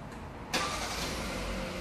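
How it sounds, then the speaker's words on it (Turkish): A Kia Sportage engine cranks and catches at about half a second, then settles into a steady idle rumble; the car is close and there is no talk. "Çalıştırın aracı."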